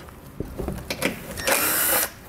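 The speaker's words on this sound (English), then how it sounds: "We're going to remove the first 2 bolts on each side of it." A hand ratchet removing 7mm bolts from an underbody cover on a Buick Encore GX, heard as close, rapid clicking followed by a longer whirring buzz as a bolt spins out.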